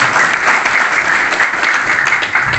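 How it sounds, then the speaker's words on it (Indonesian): Dense, steady applause from an audience at a Pemuda Pancasila coordination meeting in Subang, many hands clapping continuously and loudly with no break. "Aplaus untuk Pemuda Pancasila."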